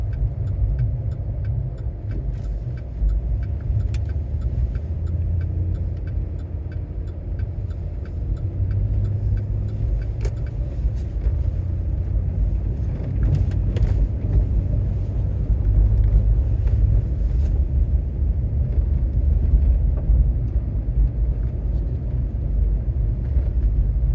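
A car moves along a street in Charlottetown in December, a steady low engine and tyre rumble that stays loud and close the whole time with no voices.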